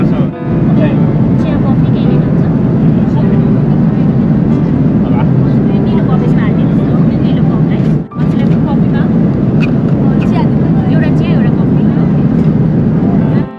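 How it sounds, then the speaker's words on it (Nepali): A loud, steady roar of airplane noise fills the cabin, a dense constant engine drone that barely varies and has one brief dip partway through. "प्लेनको ठुलो साउन्ड छ"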